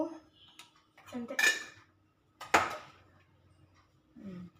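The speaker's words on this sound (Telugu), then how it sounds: "కారం, ఉప్పు, పసుపు మిక్స్ అన్నీ వేసేసి అన్నీ వేసి కలుపుతున్నాడు మంచిగా" Cooked rice is mixed with chili powder, salt and turmeric: a spoon scrapes and clinks against a metal bowl in short irregular bursts, separated by brief pauses.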